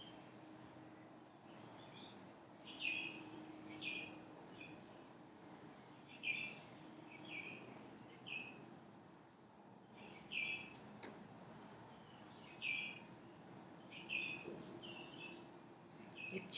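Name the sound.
birds singing outdoors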